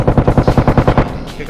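A rapid burst of automatic gunfire in the mobile game PUBG Mobile: about eight loud, evenly spaced shots in quick succession, then a fading tail.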